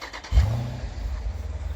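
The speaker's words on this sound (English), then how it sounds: "we can I guess do a auto start, remote start" A 2017 Jeep SRT with its stock exhaust starts by remote start: a brief cranking, then the engine catches with a loud low rumble that settles into a steady idle, heard alone.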